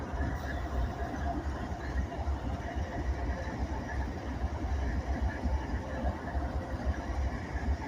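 An auto rack freight train rolls past with radial trucks, a steady near rumble of wheels and cars that holds at an even loudness throughout, with no break or gap.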